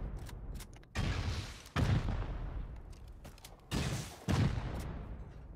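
Rockets from a video game launcher fire and explode in four heavy blasts, each booming and then rumbling away, arriving in two closely spaced pairs, loud and near.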